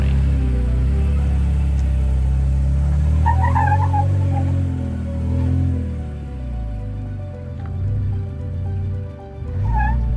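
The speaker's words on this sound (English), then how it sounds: "You can see the truck tackling the climb and handling the rocks from a fresh perspective." A truck grinds over rocks on Broken Arrow Trail in Sedona, its engine a loud steady low rumble that rises and dips with the climb, with a few creaks and knocks over the drone.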